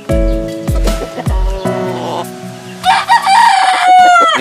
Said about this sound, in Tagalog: sabay nating tingnan ang ating mga panabong na manok